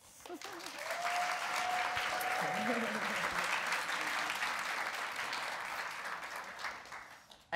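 Dense audience applause fills a book reading event, a broad steady roar of clapping that swells in and slowly thins, while a voice speaks briefly over it near the start.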